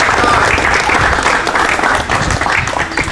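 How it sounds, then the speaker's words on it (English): A crowd gives a loud round of applause for athletes returning from competing in Grenada, dense and sustained clapping that fills the whole stretch with no break and no speech. "Give yourselves a round of applause."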